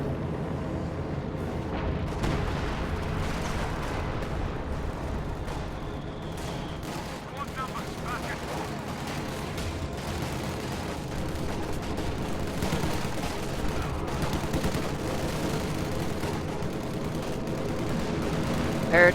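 Video game battle in which P-47 aircraft strafe a Jagdpanzer: dense, continuous rattling gunfire and impacts with rumbling explosions, loud throughout, and a voice commentates over the din.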